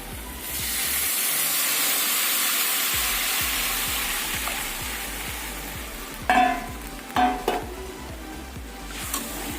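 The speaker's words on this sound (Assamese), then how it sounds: "ভালকৈ লৰাই দিম।" Spice paste frying and sizzling in a pan for a fish curry with herbs, a steady hiss throughout, broken near the end by a few scraping stirs of a spoon against the pan.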